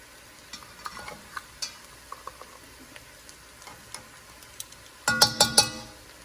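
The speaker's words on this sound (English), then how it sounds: "We're going to stir this up." Mushroom soup stirred in a pot with thyme, soft faint scrapes and light clicks of a spoon, ending in a few louder knocks against the pot.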